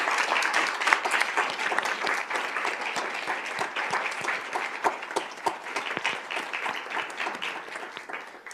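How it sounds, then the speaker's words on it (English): Sustained, dense applause from the audience at a school board meeting honoring a staff member, steady and full for several seconds with many hands clapping at once, moderately near and without talk. "Reese, if you would stand so we could give you a round of applause for your work"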